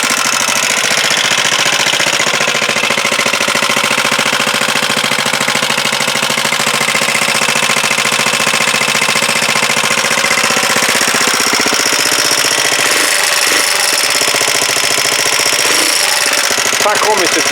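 A freshly installed Huoniao HN125 motorcycle engine runs loud and close with a rough, knocking, continuous drone, and a few heavier thumps near the end.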